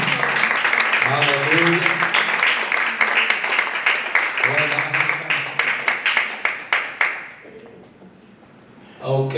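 A church congregation claps and cheers in praise during a worship service, dense applause filling most of the clip before thinning into scattered claps and fading, with a voice shouting over it and talk resuming at the end.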